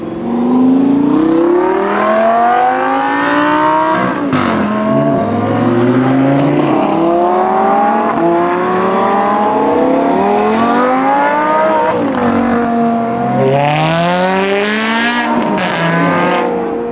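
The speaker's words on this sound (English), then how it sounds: "We got an old gen R8." An old-generation Audi R8 engine revs repeatedly, rising and falling in pitch with loud, aggressive sweeps, close by and dominating the scene.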